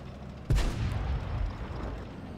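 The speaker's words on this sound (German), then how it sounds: "Und hier geht einfach Schuss nach Schuss rein." In a tank video game, an E25 autoloader cannon fires a single loud, sharp shot that booms and then fades into a low rumbling tail.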